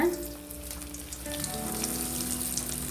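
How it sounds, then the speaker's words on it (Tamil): Vegetable cutlets frying in hot oil over a medium flame, a steady close crackling sizzle that continues without a break and without any talking. "இப்போ எண்ணெய் நல்லா சூடாயிடுச்சு. நம்ம ஒன்று ஒன்றா போட்டு எடுத்துக்கலாம்."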